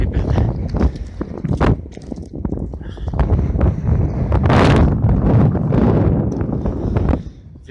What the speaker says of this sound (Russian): Ветруган свищет.